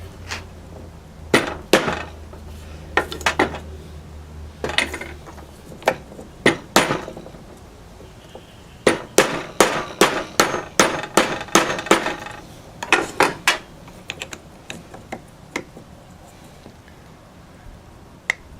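A bearing on a Hitachi miter saw shaft is tapped down with a length of 3/4-inch plastic conduit, giving sharp, close knocks in uneven clusters with short pauses between bursts.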